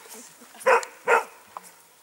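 A dog barks twice in quick succession, then gives a shorter, fainter yelp, each sharp and fairly close against a quiet background.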